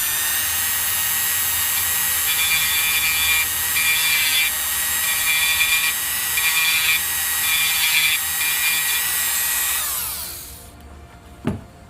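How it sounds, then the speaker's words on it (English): Dremel rotary tool lightly trimming the plastic peg of an X-Wing miniature, a loud high-pitched whine with brief grinding pulses as it touches the part, then winding down and stopping, followed by a single knock. "So I'm going to take my Dremel, let's take the peg out again"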